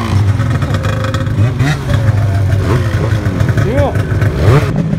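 A Ski-Doo Summit 850 snowmobile engine revs loudly and close in snowy powder, with rising and falling whines, while people talk briefly over it.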